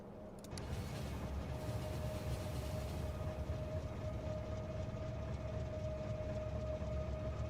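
A video game train rolls along with a continuous, even rumble and a faint steady hum, heard alone without voices.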